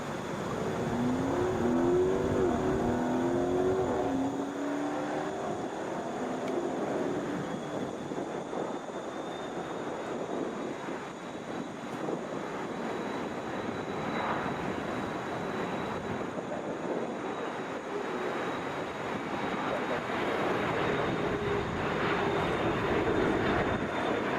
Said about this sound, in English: That is Delta 2599 headed for Madison, Wisconsin, Boeing 717.